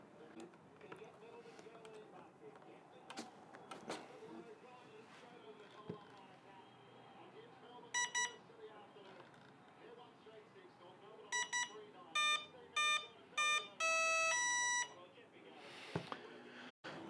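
The electronic speed controller on a Bixler model plane sounds its calibration beeps, a series of short, high electronic tones in quick clusters, first sparse and then denser, over a quiet low background.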